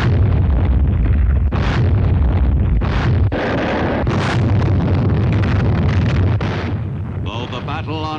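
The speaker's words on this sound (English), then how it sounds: "the Navy's warships sought to soften up the beaches by the final pre-invasion bombardment" Navy warships shelling the beaches before the Palau invasion, heard as a continuous loud roar of heavy explosions and artillery bursts with wind-like rumble throughout, in old wartime newsreel sound.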